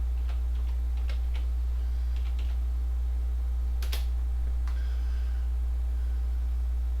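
A few keystrokes on a computer keyboard enter a Linux make install command, scattered light clicks and taps over a steady low electrical hum, with one sharper click midway.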